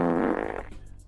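One drawn-out fart, loud and buzzy at the start, then sputtering into a fading, uneven flutter over about a second, heard alone without talk.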